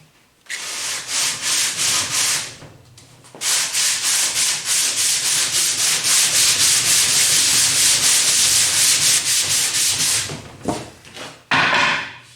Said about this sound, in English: I've got my 16-inch radius sanding block, and we're gonna go to town